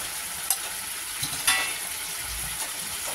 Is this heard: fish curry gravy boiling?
yes